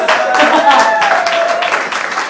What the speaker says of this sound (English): Give me applause going for Esther, please.